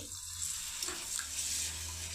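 Cold water runs and splashes steadily into a cooking pot, a soft continuous pour with faint hissing, close by and without talk.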